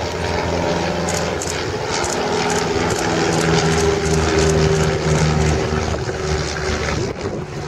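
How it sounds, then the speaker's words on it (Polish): A Maule MXT-7-180A propeller airplane engine drones steadily and builds slightly in intensity as the plane gains speed at an air show in Płock, a continuous buzzing hum heard from a moderate distance. "Po pracy silnika słyszymy, że samolot nabiera prędkości."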